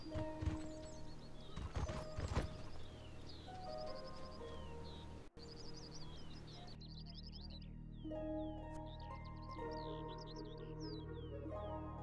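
Rhythmic clip-clop of horse hooves in the video game Mortal Online, with occasional whinnies, layered over a bed of chirping birdsong and steady ambient noise.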